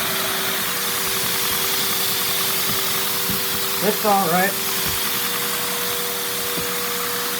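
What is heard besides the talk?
LEGO V10 vacuum engine running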